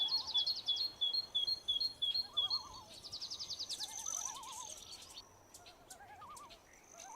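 High, thin bird song sits in short repeated phrases over the first few seconds, then softer chirps and warbles follow, from a great tit, a common bird of urban parks and gardens.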